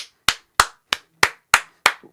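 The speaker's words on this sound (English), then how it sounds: "Everybody clap." Several sharp, evenly spaced handclaps ring out, about seven bursts in two seconds, loud and close with nothing else in between.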